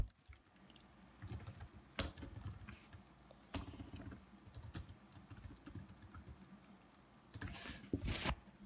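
Computer keyboard keys tapped while an email address is typed in, irregular bursts of clicks with pauses, near and moderately quiet over a low background hum.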